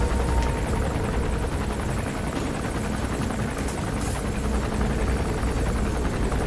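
A helicopter hovering in the video game Metal Gear Solid V: The Phantom Pain, its rotor thrumming steadily and loudly throughout, a constant dense roar with no pauses.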